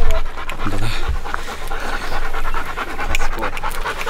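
Dog panting on a hilltop observation deck at Mount Nokogiri in Chiba, a steady rapid breathy rhythm that sounds close and clear over outdoor ambience, with no talking.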